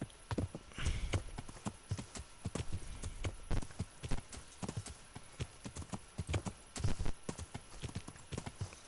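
Horse hooves clip-clopping in the medieval game Kingdom Come: Deliverance, a steady, fairly close walking rhythm of soft thuds that runs throughout with little else over it.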